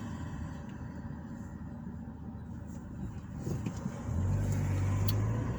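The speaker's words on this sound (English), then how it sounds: "I will be driving through the town of Greensburg" Car driving through the town of Greensburg, Indiana: a steady low engine and road rumble throughout, growing louder and heavier toward the end as the vehicle accelerates, with no talking.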